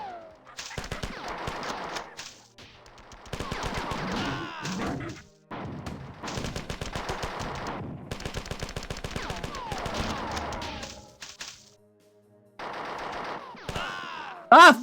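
Rapid automatic gunfire in the 1994 first-person shooter Marathon, loud and close, in several sustained bursts broken by short pauses, ending with a louder final blast.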